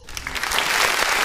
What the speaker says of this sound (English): Give it a hearty clap.